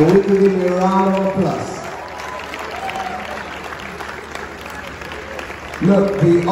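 Audience applause from a crowd at a film-related event, a steady clapping wash between bursts of a presenter's amplified voice at the start and end.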